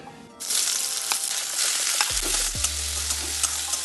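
Chopped onion and tomato dropped into hot white oil, setting off a sudden loud, close sizzle that stays steady and bright, with light stirring taps and a low hum beneath.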